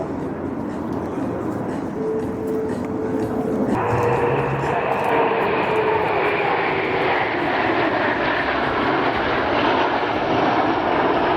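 Military jets flying in formation at the Paris Air Show at Le Bourget produce a loud, sustained engine roar, rising in intensity partway through, with a public-address voice faintly beneath.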